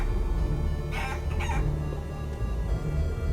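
A game chicken in Guacamelee! 2 lets out a brief pair of clucking squawks midway, loud and near, set against constant background music, with no voices.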